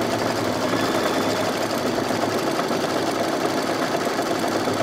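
An embroidery machine stitches an appliqué design in fabric, giving a steady, close, unbroken mechanical hum and rapid needle chatter with no talk.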